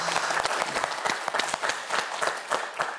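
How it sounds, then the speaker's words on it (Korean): Studio audience applauding a student contestant leaving a TV science quiz show, steady dense clapping with a few voices, moderately close, sustained for about three seconds. "박수 한번 보내주세요"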